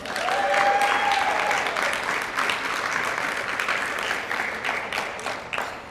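A crowd at a dog sports awards ceremony claps in a thick, even roar of many hands, close and loud throughout, with a brief whoop near the beginning and no speech over it.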